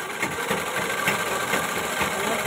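Sewing machine running steadily up close while stitching a ghagra skirt, a continuous even mechanical hum with no talk.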